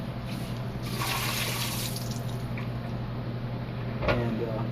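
Liquid poured off an SDS gel cassette in a lab, a steady soft splashing trickle running for several seconds with a brief louder splash near the end, plus faint background hum.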